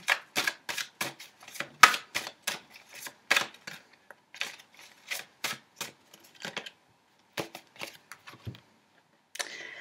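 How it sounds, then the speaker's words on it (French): Cards pulled from a deck and shuffled during a tarot-style reading, a quick series of crisp flicks and riffles in short bursts with small pauses, close and clear, no talking. "Je voulais tirer une carte avec celui-ci."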